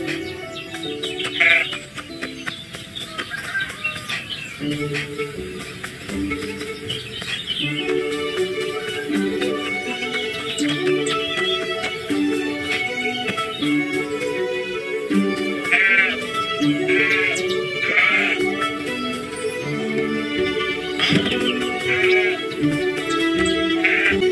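Sheep bleat repeatedly on a farm, many short wavering calls rising above cartoonish background music, with bird chirps scattered throughout.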